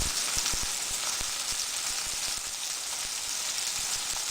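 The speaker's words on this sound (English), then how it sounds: "then let it fry for a little while." Pork pieces fry in a hot pan, a steady close hiss of sizzling fat with scattered pops and crackles, quiet and continuous with no talking.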